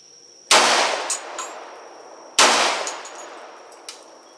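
Two loud 10mm Hi-Point pistol shots about two seconds apart fired outdoors at a shaving cream can, each a sharp crack with a ringing tail and faint metallic pings after.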